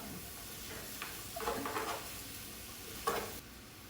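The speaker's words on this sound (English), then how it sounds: "Now this is sauteing down." Vegetables sautéing in a pot, a soft steady sizzle with a few stirring scrapes and light clinks, fairly quiet and close, with no talk over it.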